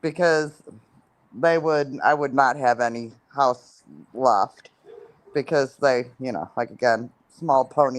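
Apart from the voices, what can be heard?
No distinct noise like a dog, phone or traffic.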